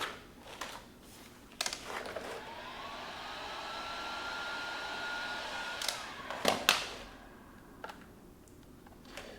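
Nearby, a heat gun gives a steady blowing hiss with a slowly shifting tone as it warms vinyl wrap on a Mustang S550 side mirror cap, broken by a few sharp handling clicks and taps.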